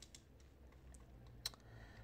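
Faint, sparse keystrokes on a computer keyboard during coding in Android Studio, a few light clicks with one sharper tap near the end, in a quiet room.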